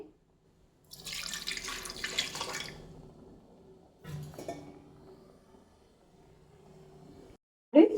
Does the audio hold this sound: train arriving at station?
no